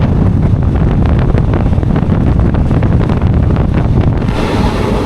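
Strong wind buffeting the microphone aboard a moving diesel local train, a loud constant rushing roar with steady rumble beneath and no voices.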